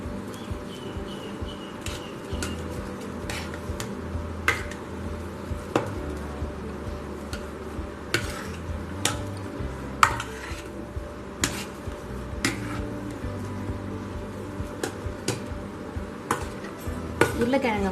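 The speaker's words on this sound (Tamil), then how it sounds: "இப்போ உருளைக்கிழங்கை நம்ம நல்லா மசிச்சுக்கலாம்." Potatoes are mashed in a bowl, with repeated knocks and scrapes of a utensil against the dish over a low background hum. The impacts come at an irregular pace, some sharp and louder, with no talking.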